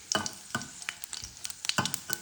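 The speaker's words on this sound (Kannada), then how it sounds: "ಇದು ಸ್ವಲ್ಪ ಆಯಿಲಲ್ಲಿ ಫ್ರೈ ಮಾಡ್ತಾಯಿದ್ದೀನಿ" Mustard seeds fry in a little hot oil for tempering, giving a close, faint crackle of irregular pops and sizzles with a few sharper bursts.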